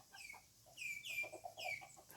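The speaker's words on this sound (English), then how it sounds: "some of them hens again." Hens cluck in short bursts, with a few higher squawky calls rising over them, moderately close with faint background hum.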